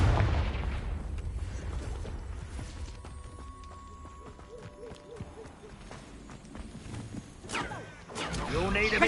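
Confringo spell blasts in the video game Hogwarts Legacy, heard as booming impacts over a dense rumbling battle mix, with bursts near the start and a heavier swell at the end, mixed with tonal effects and voices.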